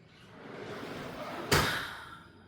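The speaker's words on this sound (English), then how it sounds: "Stay outside, close the door." A house door is pushed closed and slams shut with one sharp thud, preceded by faint shuffling and followed by a quiet tail.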